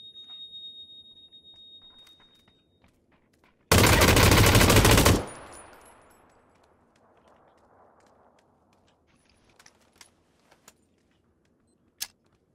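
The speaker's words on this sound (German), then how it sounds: "Flashbang." A flashbang grenade goes off in the battle royale game PUBG with a sudden, very loud broadband blast lasting over a second, then a fading ringing tail, followed by a few faint clicks and ticks.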